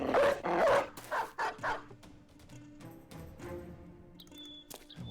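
Dogs bark in the video game Battle Brothers, several sharp, close yaps in a quick cluster at the start, followed by softer clatter and game effects.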